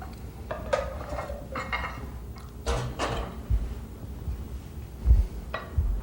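Cooked seafood scraped from a pan into a bowl in a harbour-house kitchen, a few light clinks and knocks of utensil on metal and ceramic, with soft scraping and quiet room noise, close and faint.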